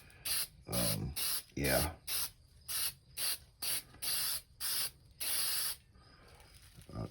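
Short bursts of spray paint hiss from an aerosol can, roughly ten sharp sprays in an irregular rhythm with brief gaps, close and clear. A voice says a single word partway through.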